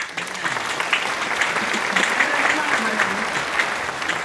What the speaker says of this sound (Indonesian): Jadi bagus, kasih aplaus.